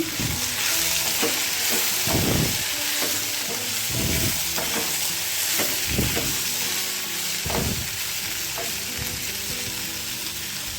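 Ivy gourd palya cooks in a pan over a low flame, giving a steady close sizzle and hiss with repeated stirring scrapes and clinks of a utensil against the pan throughout.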